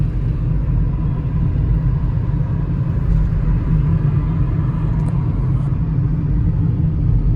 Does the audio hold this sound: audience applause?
no